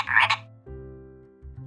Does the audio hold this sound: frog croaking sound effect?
yes